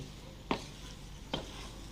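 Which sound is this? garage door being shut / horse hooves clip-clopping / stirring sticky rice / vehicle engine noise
stirring sticky rice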